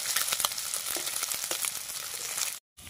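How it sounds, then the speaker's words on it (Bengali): Small fish frying in oil in a wok make a close, steady hiss with fine crackles and spits. It cuts out abruptly near the end and then returns faintly. No one speaks. "মাছটা আমার ভাজা হয়ে গেছে, আমি মাছটা আবার তুলে নেব।"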